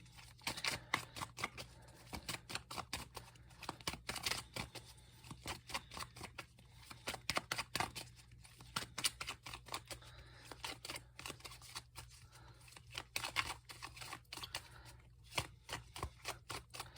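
Tarot cards being shuffled and handled, a quick run of crisp close riffling and slapping clicks in steady bursts, quiet and with no talking.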